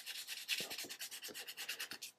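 A wooden desk with a shellac finish is hand-sanded with 600 grit sandpaper in quick, rhythmic back-and-forth strokes, a close, soft, hissing rasp repeated about a dozen times.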